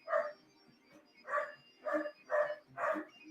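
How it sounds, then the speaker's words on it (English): A dog indoors barks five times in a steady, evenly spaced series of mid-pitched woofs, fairly close and clear with no one talking over them. "Yeah, we'll let the dog bark."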